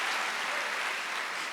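A church congregation applauds through a Sunday worship service, with steady, dense clapping that fills the room and no talk over it.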